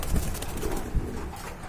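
A pair of Kagzi pigeons at a market stall, with soft low cooing pulses rising from a steady background murmur, two or three faint coos close by.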